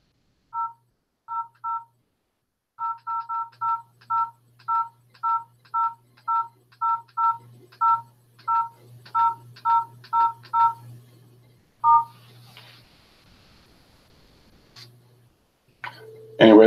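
A telephone keypad beeps out roughly sixteen short two-tone presses in a quick, steady sequence over a faint low hum, followed by quieter clicks and line noise.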